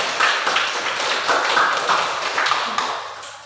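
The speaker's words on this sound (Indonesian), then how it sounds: "kita kasih tepuk tangan dan balas video untuk rekan-rekan kalian" Students in a classroom give a round of applause during a lesson on drug dangers, a busy scatter of hand claps with small bursts rising and falling throughout.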